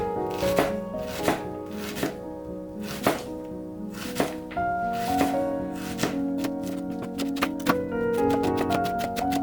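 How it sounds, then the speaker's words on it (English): A knife chops red onion on a cutting board in sharp, close, evenly spaced knocks that quicken into a rapid run of strokes toward the end. "Finally, chop the red onion."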